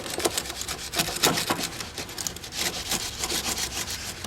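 Corrosion is scrubbed off a car battery terminal connection with rapid, rough back-and-forth rasping strokes. The scrubbing sounds close and fairly loud and continues alone.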